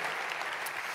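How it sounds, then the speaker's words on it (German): A church team applauding during a Sunday service, a brief steady burst of many hands clapping at moderate volume, no voices over it. "Lass einen Applaus aus dem Team."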